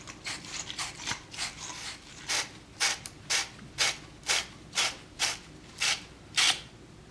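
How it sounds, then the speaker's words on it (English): Copper pipes and fittings being sanded with abrasive before brazing, heard as a steady series of close, rhythmic rasping strokes about twice a second, with no talk. "Next, we can sand down the outside of our pipes and the inside of our fittings with the abrasive material"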